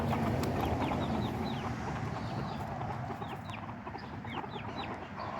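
Chickens cluck steadily in a busy barnyard flock, with short chirpy calls from a young rooster rising above the continuous murmur.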